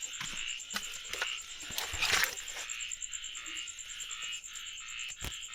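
Frogs croak in rhythmic bursts over a dense, steady wash of heavy rain on a mountainside at night, with a high insect-like tone running throughout.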